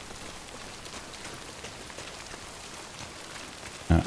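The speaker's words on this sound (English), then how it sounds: "Now, the more astute viewer will notice that it started raining." Rain falls across the open landscape of the video game Death Stranding, a soft, even hiss of drops that stays steady and fairly quiet. A brief louder thump comes near the end, and no voices are heard.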